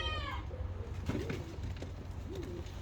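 Ottoman Hünkari pigeons, paired breeding birds, give soft low coos, with a brief higher chirp early on and a quiet room background.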